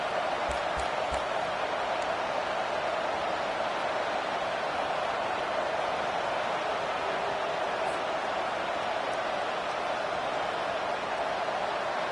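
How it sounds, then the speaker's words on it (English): A steady, dense roar of a large football crowd at a Miami versus Florida State game, constant and unbroken throughout, like a packed stadium heard from the stands. "This crowd bringing the energy and noise early."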